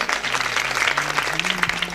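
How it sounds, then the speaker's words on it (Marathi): Short burst of hand clapping from a village audience welcoming a kirtan performer, dense and fairly close, with a voice speaking over it. "सर्व गावकरी मंडळीच्या वतीनं तिचे स्वागत करण्यासाठी जोरात टाळी वाजवायची"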